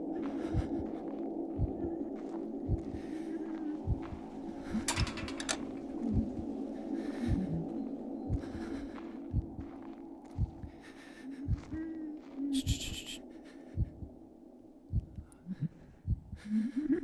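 Faint, regular heartbeat thumps pulse under a low hum in a horror video game, with occasional soft clicks and brighter bursts scattered through the quiet, tense background.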